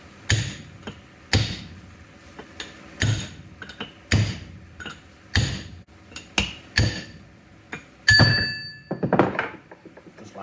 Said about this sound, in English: Just give it a light tap evenly all the way around till it pops off.